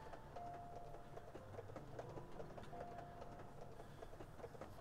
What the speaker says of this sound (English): I can still hear the train clattering.